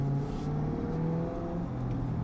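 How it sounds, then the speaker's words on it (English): A Corvette C8 fitted with a Valvetronic Designs exhaust idles during warm-up in Z mode at low RPM, a steady, deep, bassy rumble with no one talking. "So we're letting the car warm up"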